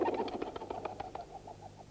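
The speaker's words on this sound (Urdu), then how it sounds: "یہ کبوتر بھی کسی زندہ مقام کی طرف اڑ کر جا رہے ہیں۔" Pigeons taking off, a rapid burst of fluttering wingbeats, close and fairly loud at first, then thinning into softer, spaced flaps as the birds move away.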